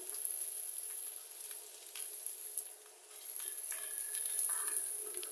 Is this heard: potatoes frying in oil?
yes